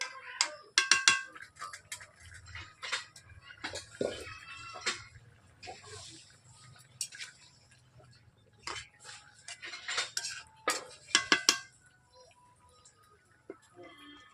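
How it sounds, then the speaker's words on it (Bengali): A metal utensil scraping and clanking against a wok in bursts of stirring cauliflower and hilsa fish curry, with sizzling faintly underneath and pauses between strokes. "আমি কড়াইতে নেড়ে দিচ্ছি এইভাবে"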